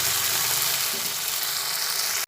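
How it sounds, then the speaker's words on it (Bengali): Oil hisses and sizzles steadily in a pan over a low gas flame, a close, continuous frying sound with no voices. "একটু গ্যাসের ফ্লেমটা কমিয়ে দিয়ে তারপরে ভেজে নেব"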